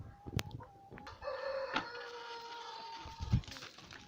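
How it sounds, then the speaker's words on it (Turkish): Chickens cluck and call nearby in a village, with faint squawks and a brief crowing note over quiet outdoor background noise. "Oğlum bak tavuklar."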